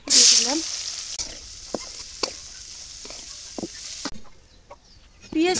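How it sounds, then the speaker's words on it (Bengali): Chopped onions fry in oil with a steady, moderate sizzle and scattered stirring clicks, while a chicken clucks loudly nearby at the start and again at the end. "পেঁয়াজ কুচি দিয়ে দিলাম"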